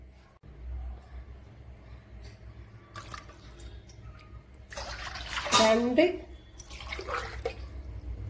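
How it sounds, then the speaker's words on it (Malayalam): Water pours and splashes into a pot in short bursts, strongest midway, with a voice speaking briefly between pours. "ബാക്കി ഇനി വെള്ളം ചേർത്ത് കൊടുക്കാം"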